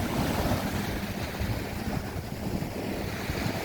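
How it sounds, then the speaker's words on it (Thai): Strong wind sweeps across a secluded Thai beach, roaring steadily into the microphone with surf mixed beneath, loud and continuous throughout. "ลมแรงมาก"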